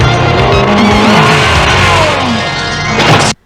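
Motorcycle speeding off in an action movie scene, a loud continuous engine roar with tire noise that rises and shifts before cutting off abruptly near the end.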